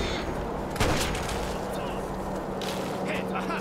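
Gunfire from power-armored enemies in Fallout 3, heard as a sharp shot or two among ongoing game noise, with a player talking over it.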